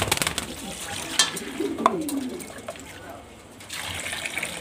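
Pigeons give a few soft coos while being bathed, with splashing and running water in the background and a person calling to them nearby.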